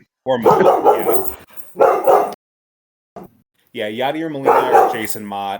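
A dog barks repeatedly in short bursts, loud and close, clustered among and between stretches of someone talking in a room.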